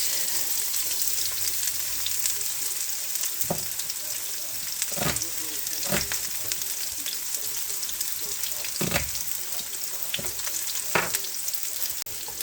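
Chopped onion frying on low heat in a pan, a continuous crackling sizzle broken by several sharp clicks and scrapes of stirring, close and even throughout.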